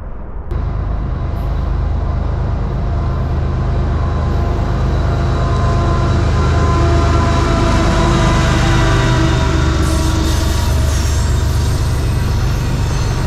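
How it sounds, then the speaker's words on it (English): A train rumbles past nearby, a broad steady roar of wheels and cars on the rails that holds loud and even for over ten seconds, with no voices. "In fact, I think a train might be coming right now."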